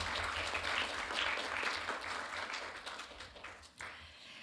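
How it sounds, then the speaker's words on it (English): Applause from a conference audience at an international governance forum, a dense, continuous wash of clapping at moderate level that thins slightly toward the end. "A big round of applause to Ms. Gillian Dorner once again."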